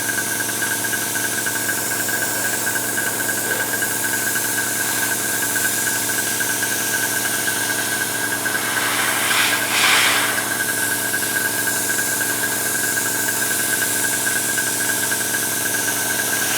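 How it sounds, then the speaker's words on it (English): An airbrush compressor runs steadily at a hobby bench during painting of a 1/35 scale model diorama, a constant close mechanical hum with a slight rise in hiss near the middle, and no talk. "Let me just switch the compressor on, I think."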